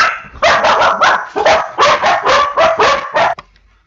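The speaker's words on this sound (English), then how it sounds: "sorry about the dogs, folks" Several dogs bark loudly and close by in a rapid run of about eight sharp barks, some higher and yippy, with no talking over them until the barking stops abruptly.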